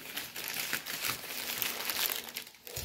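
Baking paper being unwrapped from a home-baked item that had been wrapped in a cloth bag, a close, steady dry crinkling and rustling throughout.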